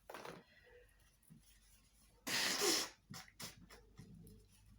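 A single loud, sharp sneeze bursts out near the microphone, followed by a few softer breaths and small sounds.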